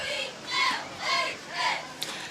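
Crowd at a high school football jamboree between Loretto and Richland, rising in three swelling waves of cheering and shouting, moderately distant, with a sharp knock near the end.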